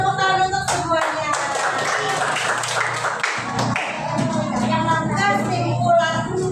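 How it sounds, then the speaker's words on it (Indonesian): A classroom of children claps together in a fast, rhythmic burst that runs steadily through the whole stretch. The clapping is loud and close, with some voices mixed in underneath. "Tepuk tangan untuk semuanya."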